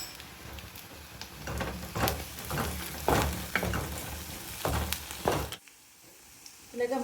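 Onions soften in a hot pan as turmeric powder goes in, giving a steady oily sizzle broken by repeated spatula stirs and scrapes, then dropping to a quieter hiss near the end.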